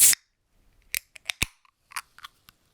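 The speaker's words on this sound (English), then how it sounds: "In the end, I just went with the sound of a can opening." A can popping open: a sharp hiss-crack up front, followed by several faint clicks and small metallic ticks, close and quiet, with no voices.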